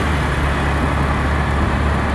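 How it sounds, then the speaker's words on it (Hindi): Dense road traffic in a city on the way out of town, a loud, constant roar of engines and tyres with no breaks or distinct passes, heard close by and without talk. "आज बहुत शोर हो रहा होगा ट्रैफिक का।"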